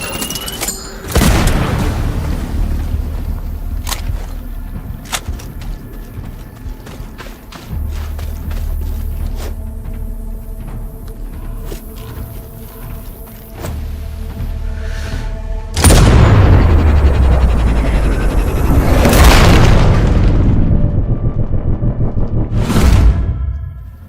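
Gunfire and heavy booms ring out in Sniper Ghost Warrior Contracts 2: sharp loud shots scattered through the stretch, with big thudding blasts near the start and a sustained rumbling barrage toward the end.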